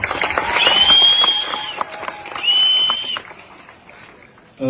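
A wedding crowd applauds in a loud, busy wash of clapping and cheering, with whistles rising over the noise in two bursts before the applause thins out.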